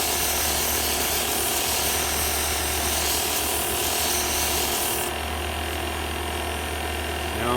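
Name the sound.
sandpaper sanding a wood-turned Christmas ornament on a lathe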